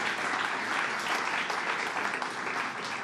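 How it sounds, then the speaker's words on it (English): A crowd at a New York transit infrastructure announcement on Long Island gives Angie Carpenter a loud, steady round of applause, dense clapping sustained throughout. "let's give Angie Carpenter a big round of applause"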